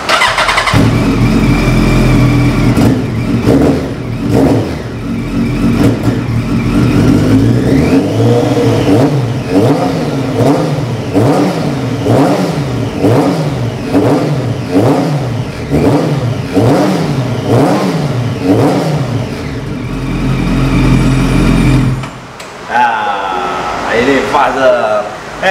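A big motorcycle with a Tubrader exhaust on a stock header revs repeatedly, its engine note climbing and dropping in loud rhythmic surges before settling to a rumbling idle, with people talking underneath.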